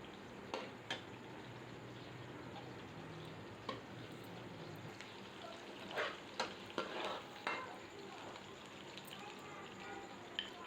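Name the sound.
sliced onions frying in a pan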